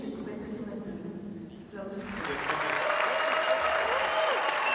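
An audience at the 2010 Lausanne Cape Town evangelical congress bursts into applause and cheering as two elderly gentlemen enter, starting with scattered clapping and swelling into sustained, dense applause.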